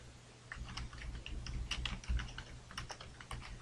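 A name being typed on a computer keyboard, a quiet run of soft, uneven key taps close by over a low background hum.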